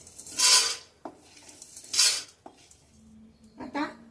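Roasted edible gum is scraped out of a pan onto a plate in three bursts of rattling, scraping clatter, each with a sharp metallic tap, separated by quiet gaps and a low hum.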